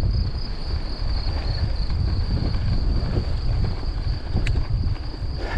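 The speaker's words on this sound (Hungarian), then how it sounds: "és megint jó kis szél van itt," Wind gusting across a rough, bumpy dirt road in Slovakia. It roars steadily and fairly loud for the whole stretch, with low rumble and buffeting and no voices.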